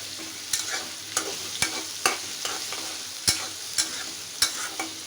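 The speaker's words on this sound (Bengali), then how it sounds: "এটা আমি এখন ব্রাউন করে ভেজে নিব" Dried fish (shutki) frying in oil in a pan, a steady close sizzle broken by sharp, regular scrapes and clacks of a spatula stirring roughly every half second to second, with no voices.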